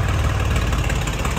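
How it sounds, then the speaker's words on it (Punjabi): A motorcycle engine idles nearby in a brief, steady low rumble with a fast regular pulse. "ਭਾਈ ਨੇ ਮੋਟਰਸਾਈਕਲ ਖੜਾ ਲਿਆ"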